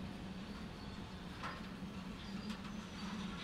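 A long freight train rolls along in the railway simulator Derail Valley, a steady low rumble with faint clicking and clacks of wheels, continuous and moderately close with no talking.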